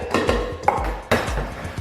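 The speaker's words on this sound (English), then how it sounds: "we'll just take this off the machine bowl" A metal mixer bowl comes off a bakery mixing machine with several clanking knocks and scrapes of metal on metal, close and fairly loud.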